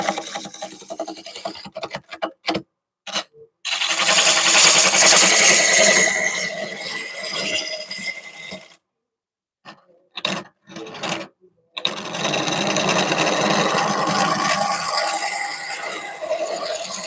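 Wood lathe gouge rough-cutting an oak bowl, a steady rasping, scraping roar in two long bursts separated by short choppy pauses and brief tool contacts, loud and close with no talk.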